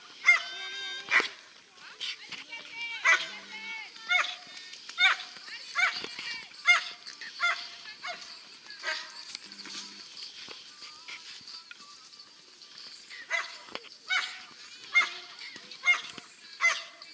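A dog barks repeatedly in short bursts through the whole stretch, fairly close, with a person's voice coming through faintly now and then.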